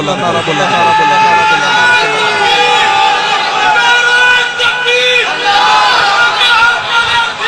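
At a religious gathering for hamd and naat recitation, a crowd chants the Takbir slogan loudly in unison. The voices rise and fall in drawn-out shouted phrases that fill the hall.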